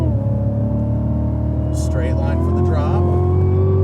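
A race car engine on a circuit held at a loud, steady high-revving drone as it accelerates out of a corner, close and in-car, with someone talking over it.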